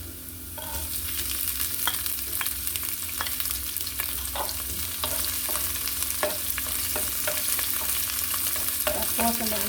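Chopped onions fry in a pan for beef goto rice porridge, a steady close sizzle running the whole time with repeated scrapes and clicks of a spoon stirring through them.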